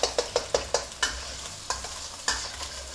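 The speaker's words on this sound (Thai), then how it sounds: "ผัดไข่เลยนะครับ" Repeated scraping stirs of eggs in a hot wok for fried rice, sharp regular strokes over a soft sizzle, close and fairly loud with no talking.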